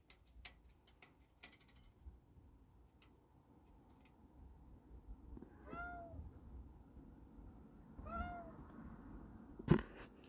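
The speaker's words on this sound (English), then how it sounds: "Oh, that silly kitty." A house cat meows twice from a short distance, a pair of clear rising-falling calls a few seconds apart over a quiet room with faint ticking and small knocks, ending with a sharp thump.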